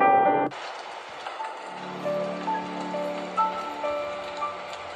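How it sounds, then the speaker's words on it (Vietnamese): Heavy rain falls as a steady hiss inside the Slendrina video game, with tonal game chimes and notes layered on top after a short music cut-off at the start. "Trời đang rất là mưa to."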